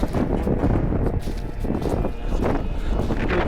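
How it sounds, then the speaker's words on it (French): Strong wind gusting across an open mountain plateau in the Vercors highlands, a loud, continuous roar buffeting the microphone with surging swells and no letup. "Il y a beaucoup de vent, putain."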